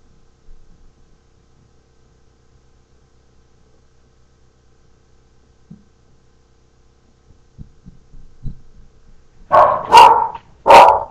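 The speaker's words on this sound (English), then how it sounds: "Sorry for the dogs" Dogs bark near the end, several loud close barks in quick succession after a long quiet stretch with a few faint knocks and thuds.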